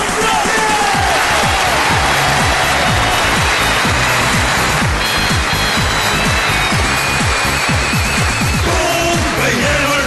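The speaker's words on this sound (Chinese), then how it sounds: "来掌声有请他" Studio audience applause greets a male contestant, a chef from rural Jilin in Northeast China, on a Chinese dating show; a dense, loud, steady wash of clapping runs throughout with voices and music mixed in.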